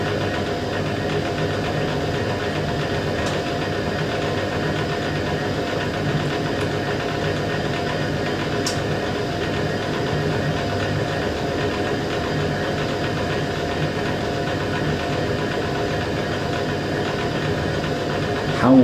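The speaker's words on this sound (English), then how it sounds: "Love some of the pump on this." A Hoover A3060 Electronic 1100 washing machine's pump runs steadily, a continuous low mechanical hum and whir with a faint vibration that holds unchanged throughout, no voices.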